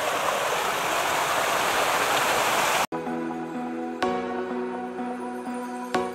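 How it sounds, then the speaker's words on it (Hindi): Hidden waterfall near Guwahati roaring steadily with dense broadband rushing water for about three seconds, then cutting to a quieter scene with a tonal hum and a couple of sharp knocks. "और ये जो आप लोग सुन रहे हैं पानी का साउंड, ये आगे में झरना है"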